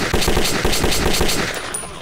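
Rapid automatic gunfire in the video game Metro 2033, a loud, steady burst of closely spaced shots running nearly unbroken for the whole stretch.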